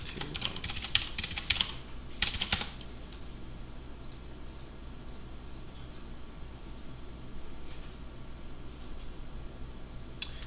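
Someone types a search on a computer keyboard: quick bursts of close, crisp keystroke clatter near the start, then a few faint scattered clicks over a quiet hum.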